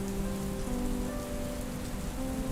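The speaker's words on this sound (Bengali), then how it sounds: "বাইরে বৃষ্টি পড়ার বেগ হঠাৎ কি একটু বেড়ে গেল" Steady rain falls outdoors, a dense continuous patter on surfaces with no voices, holding an even, fairly loud level across the whole stretch.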